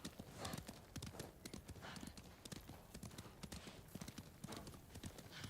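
Horse hooves clip-clop in a steady rhythmic trot in Ghost of Tsushima, close and clear, with repeated sharp hoof strikes throughout.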